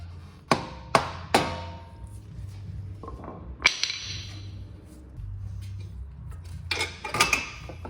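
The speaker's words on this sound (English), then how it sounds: "Now we can work on pulling the axle out." Mechanical work frees a CV axle from a second-generation Mini Cooper, with sharp metallic knocks and clanks, a few rapid hits early and more later, over a low steady hum, close by.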